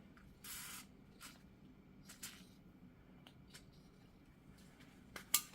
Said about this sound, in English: So we are going to spray some WD.